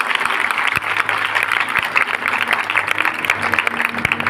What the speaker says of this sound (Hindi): आइए उस नौजवान लड़की के लिए जोरदार तालियां बजाएं।